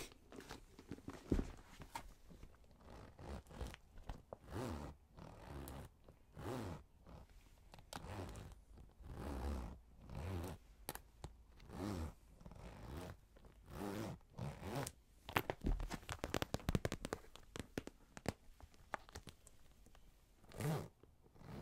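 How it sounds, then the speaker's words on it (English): A clothing zipper is slowly worked open in a quiet close-up setting, giving a long run of fast, crisp ticking rasps with small pauses, faint and intimate. "Zipper."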